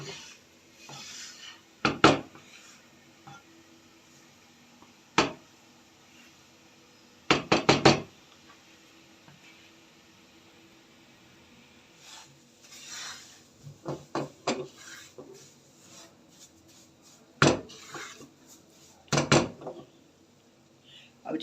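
Semolina roasting in a pan is stirred with a utensil, giving irregular knocks and scrapes against the pan, some single and some in quick clusters, with quiet stretches in between and no talking.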